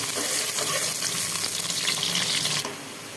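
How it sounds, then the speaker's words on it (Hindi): Onions sizzle and crackle steadily in hot oil, a loud, close frying hiss that drops slightly near the end, with no voices. "और प्याज को थोड़ा फ्राई होने देंगे।"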